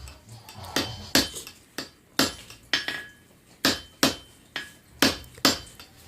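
Metal hammering at a forge, with about a dozen sharp, ringing blows at an uneven pace, several coming in quick pairs. Each strike is loud and close, with a bright clang that fades out quickly.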